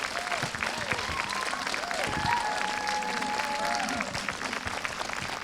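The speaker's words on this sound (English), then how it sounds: "if I could get one more round of applause for this extraordinary company" Audience applause for the AXIS Dance Company after a post-show talk, a steady wash of clapping from a crowd lasting the whole time, moderately distant, with a few voices mixed in.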